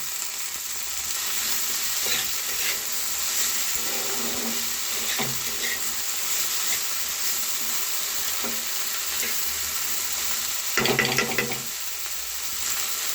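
Okra frying in a pan with salt and turmeric, a steady close sizzle running throughout with occasional stirring scrapes and a brief louder burst near the end.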